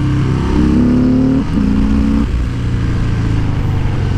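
A 2018 Harley-Davidson Sport Glide with a Milwaukee-Eight engine growls while being ridden, a loud low rumbling exhaust with rising revs and gear changes heard close up over wind.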